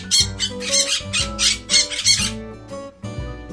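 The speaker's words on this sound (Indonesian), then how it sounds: "Burung beo, parrot." A parrot squawks and chatters in quick, harsh bursts, close and loud, with short pauses between the calls.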